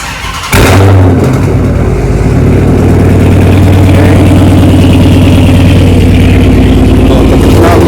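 A car engine fitted after an engine swap cranks and fires up, then settles into a loud, steady, close idle with a rough, throbbing low rumble.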